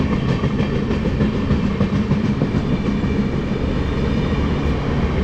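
The 17046 Anakapalle–Charlapalli express rolls past on the rails with a steady, loud rumble and faint rhythmic clickety-clack of the wheels, no voices, continuous throughout.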